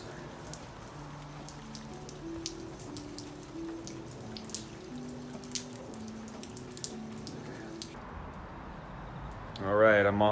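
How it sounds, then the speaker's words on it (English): Steady rain falls at night on a collection of restoration pieces, a dense hiss of drops with scattered sharper taps. A faint tonal hum sits underneath, and the rain drops away abruptly near the end before a brief louder rustle. "night one of rain on the restorations"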